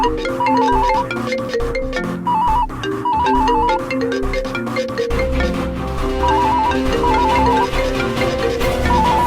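A phone ringtone plays loudly: a repeating electronic melody of short beeping notes over a steady musical backing, continuing throughout.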